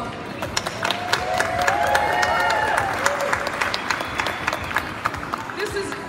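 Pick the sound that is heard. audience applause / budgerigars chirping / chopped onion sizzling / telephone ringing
audience applause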